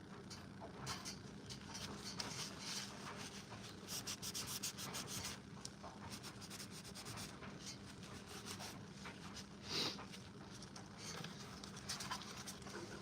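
Soft, steady dry rubbing of paint being worn away from painted armor to expose a metal tinge, a quiet continuous scraping texture with faint irregular pats, close and alone.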